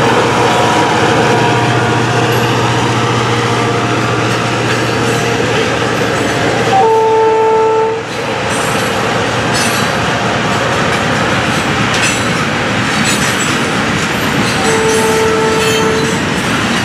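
An FEC F-511 locomotive, one of three left in its class and painted in the Going Places logo, rumbles past with a steady loud engine drone and rolling wheel noise, and brief horn-like tones sound midway and near the end.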